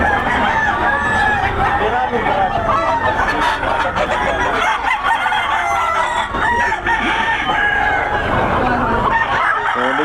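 Several gamefowl roosters crow and cluck close by, their calls overlapping continuously in a busy, loud yard chorus with little pause.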